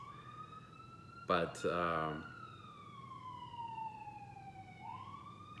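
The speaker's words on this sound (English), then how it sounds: "I don't know if you guys can hear the siren outside" A wailing emergency siren passes outside, a steady rising and falling tone heard faintly through the walls. A voice speaks briefly over it.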